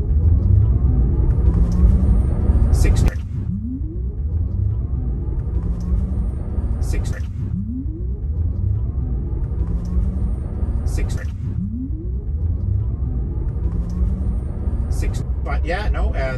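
A 2022 Tesla Model 3 LFP rear-wheel-drive accelerates at full throttle, a loud, steady low rumble of road and drivetrain noise with a rising whine and a repeating whoosh of passing objects, no talk over it.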